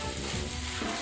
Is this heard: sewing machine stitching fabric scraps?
no